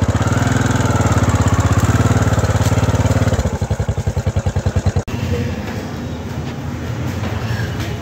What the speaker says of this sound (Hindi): कर दी बाइक स्टार्ट